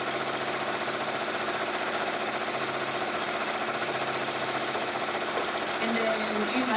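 A sewing machine stitches a straight seam along a linen pillow, giving a steady, loud, continuous mechanical whir with a rapid needle rhythm that runs through the whole stretch without pause.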